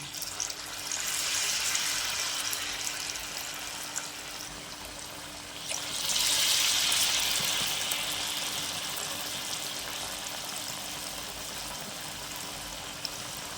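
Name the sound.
cassava susiyam dumplings frying in oil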